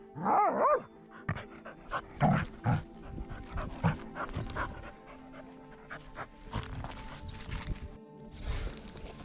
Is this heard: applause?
no